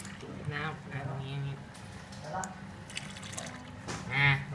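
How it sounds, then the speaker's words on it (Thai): Water runs from a tap into an electric kettle, a soft trickling fill beneath someone speaking close by, with a brief louder splash near the end. "เดี๋ยวน้ำล้น"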